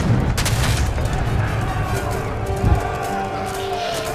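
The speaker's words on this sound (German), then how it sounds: "Ich hab 12 Kanonen, warum schießen nur 5?" Cannons firing in Age of Empires 3, a dense, ragged volley of booming shots with repeated bursts over several seconds, loud and overlapping amid battle noise.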